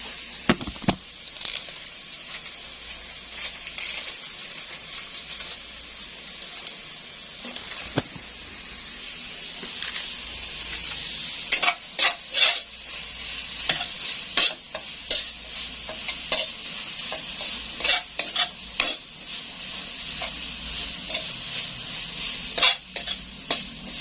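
Minced garlic and onion sauté in oil in a pan, giving a low steady sizzle that runs throughout, punctuated by frequent metallic stirring scrapes and clinks that grow busier toward the end.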